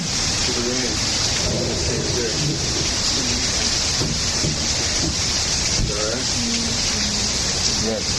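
Steady rain pours down in a constant dense hiss, with low rumbles mixed in and voices talking quietly nearby.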